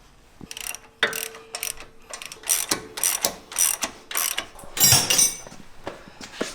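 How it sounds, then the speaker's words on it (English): Rapid clicking of a ratchet with an 18 mm socket tightening sway bar bolts on a Jeep JL Wrangler, several loud close bursts of pawl clicks separated by short pauses. "18 millimeter socket and wrench again."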